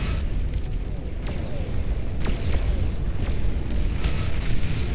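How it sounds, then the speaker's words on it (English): A nuclear explosion in the strategy video game Beyond All Reason, heard as a sustained low rumbling roar with several sharp cracks and pops breaking through at intervals, fairly loud and continuous. "Massive explosion takes out all of the yellow in the middle of the map"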